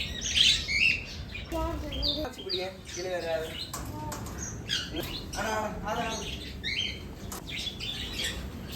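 Cockatiels and lovebirds chirp and squawk in a busy, overlapping chatter in an aviary, with a voice talking over the birds throughout.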